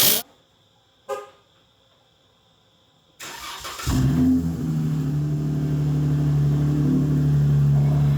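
A Chrysler 300 with a V6 engine and dual exhaust comes to life after a couple of sharp clicks and a pause, cranking briefly and then settling into a loud, steady, droning idle rumble close by.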